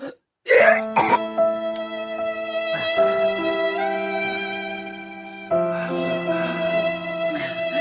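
A man coughs and clears his throat harshly at the start, then sustained musical tones and some background voice continue through the rest, in a Chhattisgarhi comedy skit.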